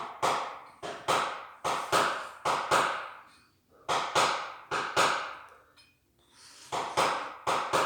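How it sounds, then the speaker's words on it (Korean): Sharp metallic taps of a dent repair punch on metal in quick bursts of three or four, repeating with short gaps, fairly close and crisp. "펀치 소리도 들리죠."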